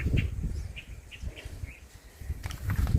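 Piroka birds calling in the wild during a hunting trip, giving a series of short, thin chirps repeated at irregular intervals, moderately distant, over rustling ground noise.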